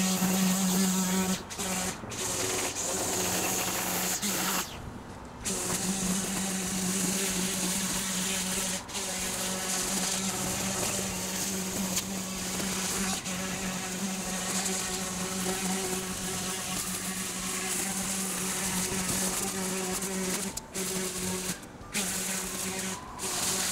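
A string trimmer cuts tall grass with a loud, constant buzzing motor drone. It runs almost nonstop for over twenty seconds, broken only by a few brief dips as the engine load changes.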